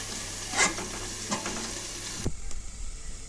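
Okra and potatoes frying in a pan give a bright sizzle with stirring scrapes and a clink, then the sizzle drops to a quieter, duller crackle for the last second, with no talk.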